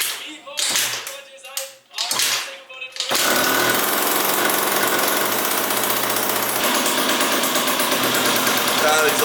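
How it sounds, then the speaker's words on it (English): A Malaguti Phantom F12 scooter with a 70cc kit, Yasuni pipe and leaking exhaust takes several sharp kick-start strokes, then catches and runs in a loud, continuous raspy buzz up close. "we're ready to kick this thing over and see if she'll fire up"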